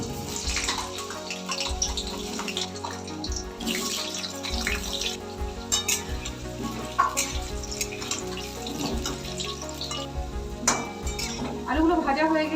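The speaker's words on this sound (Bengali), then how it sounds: "কড়াইয়ে আন্দাজ মতন তেল দিয়ে দিলাম। এবার এই তেলের মধ্যে মাঝারি সাইজের 5টা আলু আমি" Five medium potato pieces frying in oil in a kadai for a Bengali mutton curry, a continuous watery sizzle with scattered clicks and stirring scrapes, close and steady throughout.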